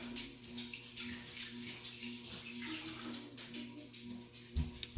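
Beef broth is poured into an Instant Pot as a steady, close liquid stream that splashes and gurgles for several seconds. It ends with a soft knock, and no one speaks.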